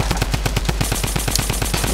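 A gun in the Fortnite video game fires in a rapid, evenly spaced automatic stream, loud and close, with sharp reports continuing without pause.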